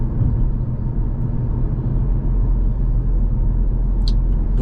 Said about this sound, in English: driving around in a small town